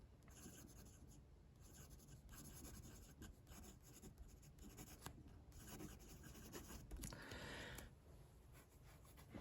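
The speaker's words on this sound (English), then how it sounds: "Let's do a writing sample." A Jinhao 80 fountain pen writes on paper with Waterman Serenity Blue ink, giving a very faint, close, continuous scratchy stroking with small pauses between words.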